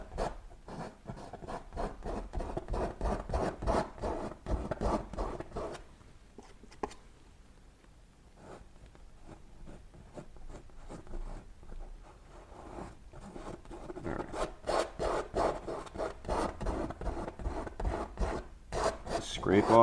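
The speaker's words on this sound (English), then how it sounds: "Scrape off what you can scrape off, make your life easier." Palette knife or scraper dragging across an oil-painted landscape canvas, repeated rasping strokes in quick rhythmic bursts, close and fairly quiet, with a brief pause midway before the scraping resumes.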